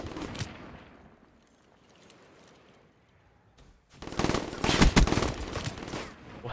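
Video game gunfire rattles out in a short burst early on, then after a quiet stretch a loud, dense sustained volley of automatic fire bursts close up, no speech.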